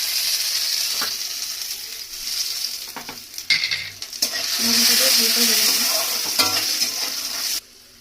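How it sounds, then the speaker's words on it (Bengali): Cashews and raisins fry in a pan while being stirred, a steady bright sizzle broken by scraping spatula strokes and a few knocks against the pan, cutting off abruptly near the end. "কিশমিশ আর দিয়ে দেবো কাজু। এটা ভালো করে একটু ভেজে নেবো।"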